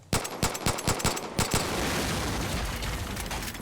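Gunfire in Far Cry 5, a rapid burst of about eight loud close shots followed by a dense sustained rattle of fire.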